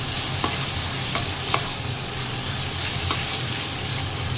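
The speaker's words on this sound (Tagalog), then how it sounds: "I-stir fry lang natin ito." Vegetables and pork stir-fry in a pan with a loud, continuous sizzle, broken by a few sharp clicks from stirring.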